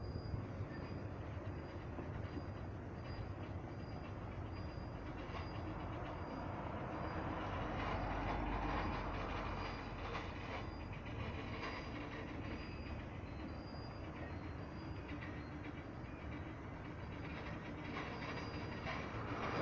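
A train goes into emergency braking, its wheels squealing in a sustained high metallic whine over a low rumble of rolling cars, heard from a distance at modest level.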